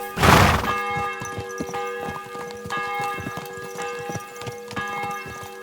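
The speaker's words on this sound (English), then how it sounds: "They're sounding the bell for us." A church bell tolls steadily in the video game Kingdom Come Deliverance 2, opening with a loud strike and then ringing on in repeated, resonant peals with long humming overtones. No one speaks.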